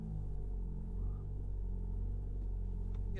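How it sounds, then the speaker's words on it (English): A 2016 Renault Kadjar 1.5 dCi diesel with a flat-performance fault revs in a workshop, giving a deep, steady rumble with a slight swell in pitch, loud and close, with no one speaking. "Just rev it, Roddy."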